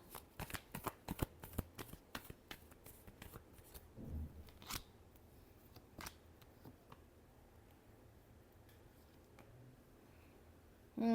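Tarot cards being shuffled in a rapid burst of crisp riffling clicks and flutters, fairly close, easing into scattered softer taps with brief pauses and a final rustle.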